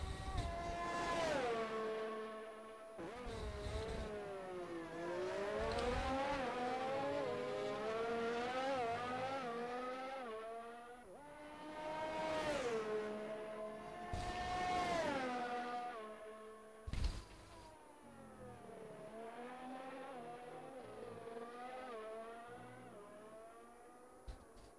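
Race cars in a racing video game pull out of the pits for the Austria round of the RRF1 Division 3 league. Several high engine whines rise and fall one after another, loud and continuous, with no talking.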